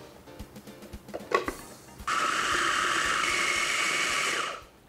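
An electric grinder blitzes pieces of stale bread into breadcrumbs for a pasta dish, first a few knocks and clatters, then a loud, steady high-pitched motor whine running for about three seconds before spinning down.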